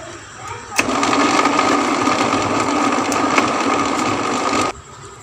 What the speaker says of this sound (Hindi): अब हम इसको अच्छी तरह से ब्लेंड करेंगे